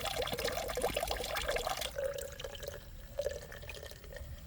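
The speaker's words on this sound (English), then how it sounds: "can refill our bottles at this fountain here" Water running from a public drinking fountain as bottles are refilled on a cycling route, a close trickling and splashing stream with drips, shifting in pitch as it fills.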